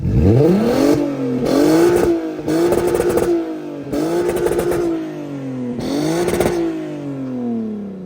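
A VW Golf V GTI with a swapped R32 engine revs hard in repeated bursts, five rising, roaring pulls with brief drops between them, loud and close.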